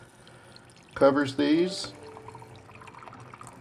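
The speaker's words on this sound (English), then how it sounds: "got some water here. My understanding is we just need to pour this in until it" Water is poured into a wet brass-case tumbler, a brief splashing pour lasting under a second, with someone talking just before and after it.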